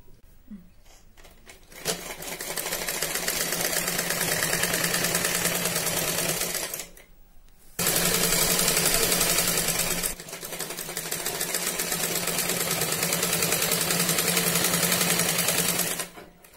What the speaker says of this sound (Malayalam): ജോയിൻ ചെയ്ത് കഴിഞ്ഞു ഇനി നമുക്കിത് പതിച്ചടിക്കാം